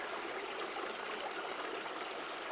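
Creek running through winter woods with icicles along its banks, a steady, even rush and babble of water filling the whole span at a constant level, with no voices.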